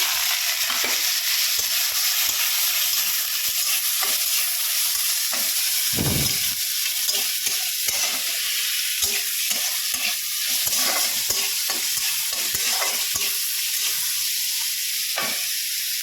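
Egg roll mixture fries in hot oil with a constant close sizzle, punctuated by occasional stirring and scraping knocks in the pan, and no voices over it.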